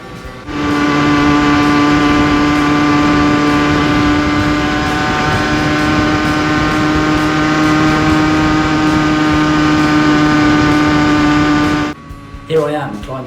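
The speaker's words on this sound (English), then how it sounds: "The RZ50 maintained over 30 miles an hour all the way up to the summit." A Yamaha RZ50 moped engine runs steadily as it climbs a road, holding a loud, continuous drone that sustains its pitch for about eleven seconds. Near the end the drone cuts off, leaving brief scattered sounds.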